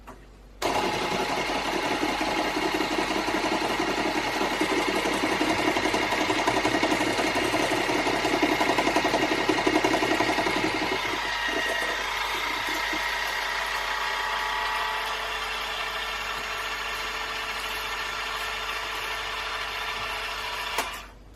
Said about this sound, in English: So the longer you mix it, the fluffier the cakes will be